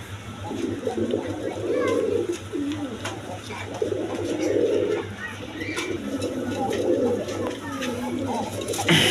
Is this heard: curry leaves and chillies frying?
no